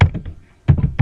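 Close computer keyboard keystrokes while C++ code is being typed, a quick burst of clacks, a short pause, then another cluster of firm taps.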